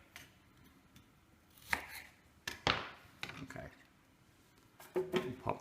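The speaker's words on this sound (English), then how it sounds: "I got my half beet here. I'm going to just cube it, quarter it down a little bit" A few sharp knife chops through a beet on a cutting board, irregularly spaced, close by, with quiet room noise between strokes.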